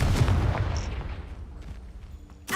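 In the Hogwarts Legacy video game, a Confringo fire spell bursts loudly at the start and fades into a decaying rumble, then a second short burst cuts in at the very end.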